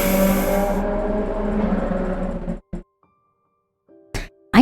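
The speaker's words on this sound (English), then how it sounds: "Apparently some person decided to just blast the motorcycle." Motorcycle engine blasting loudly close by, a dense, sustained roar for about two and a half seconds that cuts off abruptly, followed by a few short bursts and silence.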